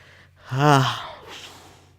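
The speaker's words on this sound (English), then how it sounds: "Try to hold off these yawns, man." A single drawn-out yawn from a man during a hockey video game session, rising to a loud breathy peak then trailing off into a softer exhale, close to the microphone with no talking.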